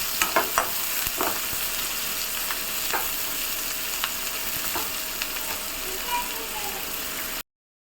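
Chopped onions sautéing in a pan for an egg and tomato thokku, a steady broadband sizzle with occasional clicks and scrapes from stirring, close and continuous before cutting off near the end.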